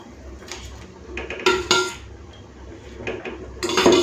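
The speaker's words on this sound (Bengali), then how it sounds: "তো ঝোলটা ফুটে উঠেছে, এখন এই মাছ ভাজাগুলো দিয়ে দিই।" Fried hilsa fish pieces go into a pan of boiling mustard gravy, setting off a few metallic clinks and clatters of a utensil against the pan over a soft bubbling background, with a louder clatter at the end.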